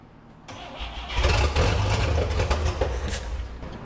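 A 1968 GMC C2500 big block V6 cranks briefly, then fires and catches into a rough, loud, uneven idle with a few revs, up close.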